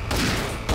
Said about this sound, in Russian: Ой-ой-ой, стреляют